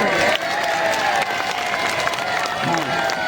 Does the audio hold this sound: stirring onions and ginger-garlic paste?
no